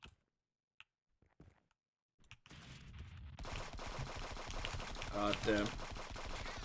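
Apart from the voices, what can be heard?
sniper rifle gunfire in a video game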